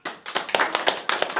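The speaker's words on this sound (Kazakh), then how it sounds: "Шапалақ бар ма?" Wedding guests at a Kazakh matchmaking celebration break into a short round of applause, with uneven bursts of hand claps rising and falling close by.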